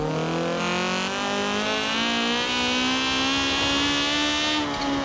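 Honda Civic engine in the racing video game Forza Horizon 4, a steady, loud mid-pitched drone that rises in pitch as the car accelerates and holds near the end, heard alone.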